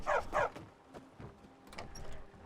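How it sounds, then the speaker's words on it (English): A dog barks in the Skyrim video game, two quick loud yaps near the start followed by softer yips and whimpers, with background game ambience and no talking. "Did the blacksmith find a new dog?"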